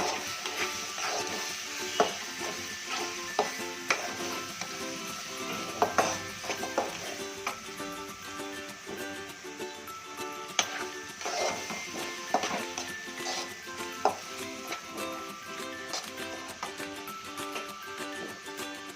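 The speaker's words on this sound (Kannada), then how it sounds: "ಮತ್ತು ಸ್ವಲ್ಪ ಹಸಿ ವಾಸನೆ ಹೋಗೋವರೆಗೂ ಫ್ರೈ ಮಾಡ್ಕೊಳ್ಳೋಣ." Ground masala paste frying in a pan for egg chops, a steady close sizzle with frequent soft clicks and scrapes of a spoon stirring through it, no voices.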